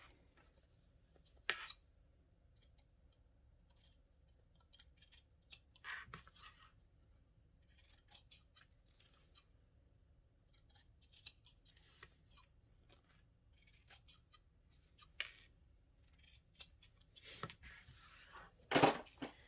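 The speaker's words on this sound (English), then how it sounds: "If you want, you can just trim it down so there's no extra bits." Scissors trim excess material from a sewn travel satchel seam, giving scattered short snips and crisp cuts with quiet gaps between them, growing busier toward the end.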